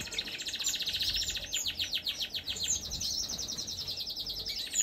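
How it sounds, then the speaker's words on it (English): A pair of red mosaic canaries chirp in rapid, repeated trills, bright and fairly close, in an aviary, with quick pulsing runs of notes over a faint background hiss. "here we have the pair of red mosaic canary birds"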